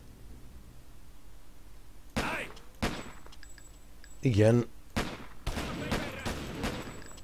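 Gunshots in a sniper shooting video game, several sharp separate cracks spaced a second or so apart, with a person briefly speaking between shots.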